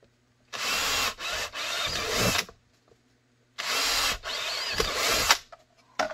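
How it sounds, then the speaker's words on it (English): A power drill whines in two separate bursts drilling holes for a Glock 17 holster mount, each a few seconds long with brief stutters, loud and close, with silence between them. "let's drill those real quick"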